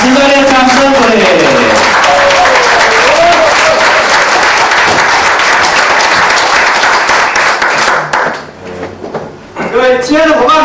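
A lecture audience breaks into loud, sustained applause for a speaker, dense clapping filling the room for several seconds before briefly thinning and then swelling again.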